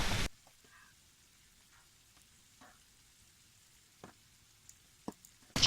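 Scallops and bacon fry in a pan on a wood stove in a hot tent at a wilderness camp, giving a soft steady sizzle with a few sharp pops and crackles scattered through.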